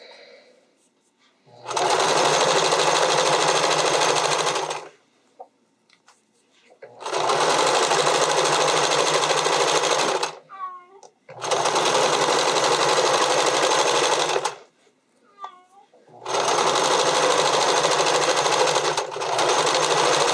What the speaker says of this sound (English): So this way makes it easier to make sure that you're actually stitching over the edge here.